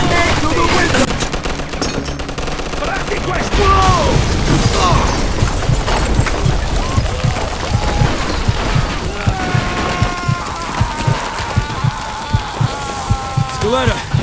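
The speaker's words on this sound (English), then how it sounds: "Looks like we found the machine gun." Gunfire from a machine gun in the Mafia II video game, with repeated bursts and sharp shots across the clip mixed with game sounds and voices talking over the action.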